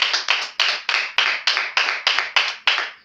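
A church congregation applauds in tight unison, about eleven crisp, evenly spaced claps in a steady rhythm, clear and close with no talking.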